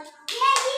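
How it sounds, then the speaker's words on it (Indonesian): Young second-grade children clap in an Indonesian classroom, a short burst of light, uneven hand claps that starts abruptly and grows louder, with a voice faintly behind. "ayo tepuk tangan yang meriahnya mana?"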